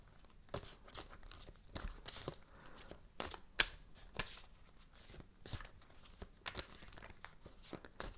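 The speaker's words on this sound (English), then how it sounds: "I'm gonna shuffle." Tarot cards are shuffled by hand in a quiet room, a soft, irregular run of papery riffles, slides and taps, close and fairly faint, with no voices.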